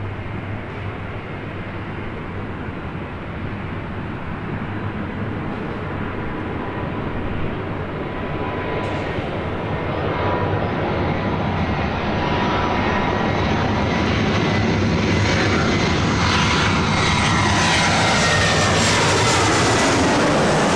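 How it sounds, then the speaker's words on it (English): A Delta Airbus A319 arriving from Las Vegas on final approach to runway 24 left at LAX, its engine roar a steady broadband rush that slowly swells louder as the jet draws nearer. "It's the A319 with Delta coming in from Las Vegas."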